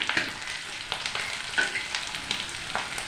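Ground cumin being sautéed in a hot pan for a gathi dal: a bright continuous sizzle with soft irregular stirring scrapes, close and fairly loud, and nobody speaking.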